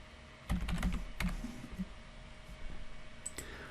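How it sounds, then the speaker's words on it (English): A client's name is typed on a computer keyboard as a quick close burst of light key clicks, followed by a few scattered taps and a soft click in a quiet room. "So I'll type in my existing client's name"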